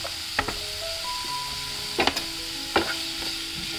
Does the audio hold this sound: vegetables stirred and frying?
yes